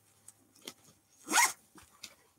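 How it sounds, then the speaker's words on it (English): Zipper on a pocket of a designer handbag, a few short rasping pulls with one longer, louder zip in the middle, close and crisp against near silence. "There's a zipper pocket here."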